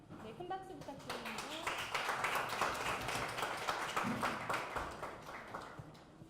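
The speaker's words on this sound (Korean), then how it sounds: "네, 큰 박수 부탁드립니다." Audience applause at a global fintech startup forum, a steady wash of clapping hands running throughout with talk over it.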